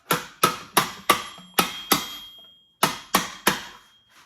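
Sharp metallic ball-peen hammer blows on a license plate ring out on an anvil, about ten strikes in an even rhythm with a short pause partway through.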